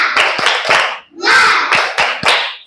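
Children clapping a rhythmic chant together in a classroom, two loud bursts of synchronized claps mixed with voices calling out in time.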